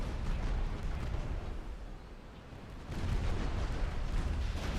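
A huge ship ammunition detonation in Ultimate Admiral: Dreadnoughts, heard as a continuous rumbling roar of naval battle that dips briefly, then swells again, with no voices over it.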